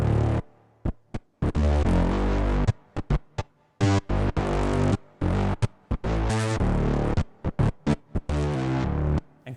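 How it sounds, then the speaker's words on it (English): A Jupiter 8 synth bass plays a sequence of punchy, detuned notes with short gaps and repeated staccato hits, loud and alone, played through the Soundpaint instrument. "snug in a bass from the Jupiter 8 here"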